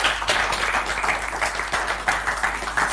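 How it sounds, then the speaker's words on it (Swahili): Steady audience applause from a crowd at a Kenyan youth training event, a dense, continuous patter of many hands clapping for about three seconds with slight swells, no voices over it. "Makofi."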